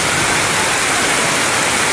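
Heavy rain pours down steadily in a flooded street in Tondo, a dense, continuous hiss with no breaks and no voices, loud and close throughout.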